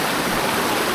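A fast-moving river at a wilderness trail crossing rushes in a dense, steady roar of broadband water noise, close and loud, with no voices.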